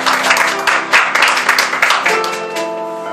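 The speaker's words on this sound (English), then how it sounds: "Let's give her a hand clap." Congregation clapping hands during an evening church service, a brief burst of applause with strong sustained tones, likely music, running underneath.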